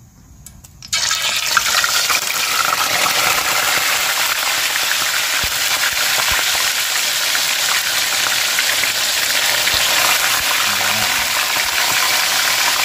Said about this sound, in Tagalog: Yan, prito tayo dito sa loob.